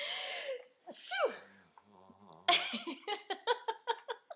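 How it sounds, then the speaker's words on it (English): A single sneeze after some breathy vocal sounds, followed by a run of rhythmic laughter-like bursts close to the microphone. "I'm going to sneeze."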